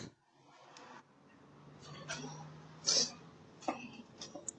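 A person coughs and clears their throat in short, separate bursts, picked up by a doorbell camera. The sounds are moderately close and sit over a quiet room background.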